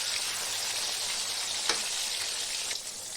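Marinated katla fish, coated with salt, turmeric and chilli, fries in hot oil in a wok. A steady, close, loud sizzle runs throughout, with a brief clack near the middle as a piece is flipped.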